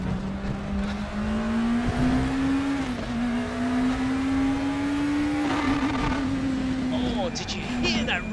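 A race car engine in the RaceRoom racing game holds a loud, steady high-revving drone near its rev limiter, pitch creeping slowly upward, with someone talking over it.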